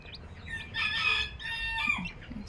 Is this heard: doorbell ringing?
no